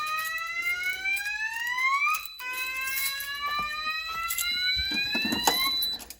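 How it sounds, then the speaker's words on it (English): A smoke detector in a shed fire alarm system sounds during a test, a loud rising electronic whoop that sweeps upward, cuts out, then starts again, repeating close by with no one talking. "So these detectors do have alarm verification, so it activates, then resets, and then activates again."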